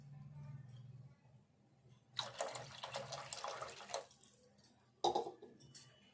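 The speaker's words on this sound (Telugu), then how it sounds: "ఇంకా కొన్ని వాటర్ వేసుకుందాము." Water pours into a pot of tamarind fish curry in two splashy streams, the first lasting about two seconds and the second shorter, close by over a low hum.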